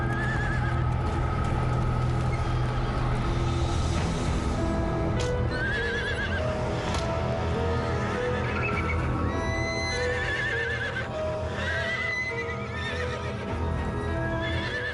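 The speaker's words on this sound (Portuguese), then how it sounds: "George Blackwell acordou de madrugada com os animais extremamente agitados." Agitated horses at night, including a frightened prize mare, whinny and neigh repeatedly over close, shuffling hoof clops and restless movement, loud and continuous throughout.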